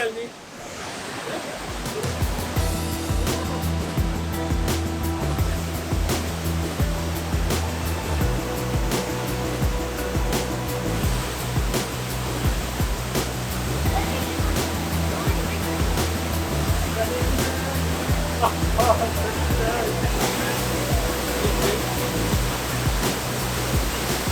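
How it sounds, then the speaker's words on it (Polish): Palovit waterfall near Çaylı in Rize roars as a steady, broadband rush of falling water, loud and close throughout, with some talk and other sounds faintly layered over it. "Czyli pod wodospadem Palowic."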